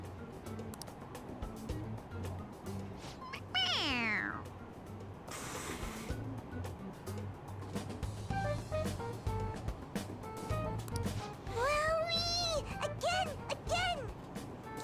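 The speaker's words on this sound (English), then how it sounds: "It's a stuffed animal. Yeah, it's just a toy. It meows when you press on its head." In Persona 5 Royal, a stuffed toy cat gives a couple of sliding, pitched meows when its head is pressed, heard over a humming game soundtrack.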